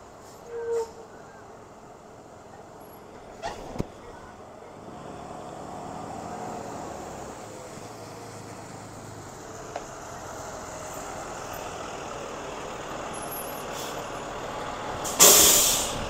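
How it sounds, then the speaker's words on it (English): A school bus pulls up and stops outdoors, with a sharp air brake hiss at the end and a truck engine rumbling at moderate distance throughout. Brief voices are heard. "Here comes Marcel's bus, you guys"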